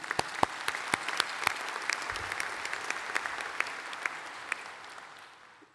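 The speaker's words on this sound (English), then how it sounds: "a round of applause again" A graduation ceremony crowd applauds steadily, claps pattering densely at moderate distance before tapering off and fading toward the end.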